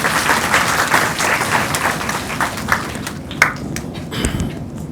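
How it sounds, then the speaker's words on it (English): Audience applause fills a lecture hall at a distinguished lecture, steady dense clapping throughout that thins slightly toward the end with a few sharper individual claps. "Please give him a big round of applause."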